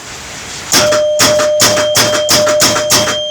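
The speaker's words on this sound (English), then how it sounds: "There's the 100-point chime," A Gottlieb Surfer pinball machine's 100-point chime rings repeatedly, six or seven bright, loud metallic dings at a steady quick rhythm, each tone sustaining into the next, with no voices.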